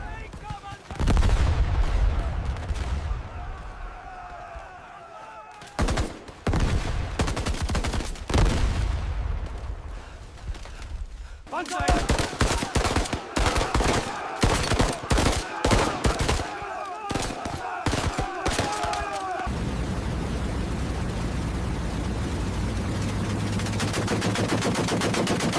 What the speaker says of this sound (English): He heard gunfire nearby.